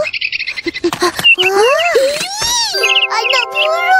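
A cartoon baby bird gives high chirps and tweets that fall from a nest, mixed with animated sound effects and children's voices, loud and close.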